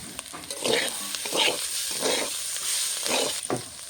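Potatoes and flat beans fry in a pan, a close sizzle punctuated by rhythmic spatula stirring strokes at roughly regular intervals, with no voices.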